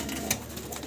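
Pigeons in a fancy breeder's collection coo softly throughout, a steady murmuring layer with one brief louder burst near the middle, no talk.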